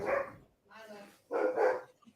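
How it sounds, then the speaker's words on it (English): An excited dog barks in bursts, three rough yapping volleys spread over two seconds, heard at moderate distance in a quiet indoor space. "The dog's going crazy."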